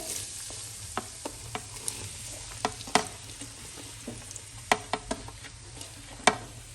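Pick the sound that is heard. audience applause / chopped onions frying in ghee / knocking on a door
chopped onions frying in ghee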